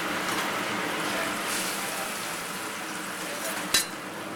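Garlic, ginger and scallions sautéing in oil over a moderate-to-low flame for hot and sour soup: a constant, fairly loud sizzle with a single sharp utensil clink near the end.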